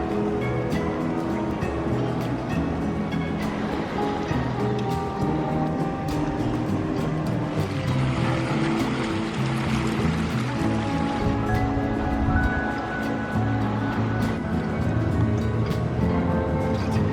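Sea waves washing into a natural rock pool on the Sardinian coast, a steady loud rush and churn of water with a surge swelling in the middle, heard alone and continuous throughout.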